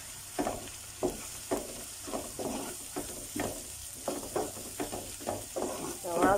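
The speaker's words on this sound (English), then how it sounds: "the curry powder is frying up" Curry powder and turmeric fry in a pot while a utensil stirs them, with repeated scraping strokes about every half second over a soft, steady sizzle.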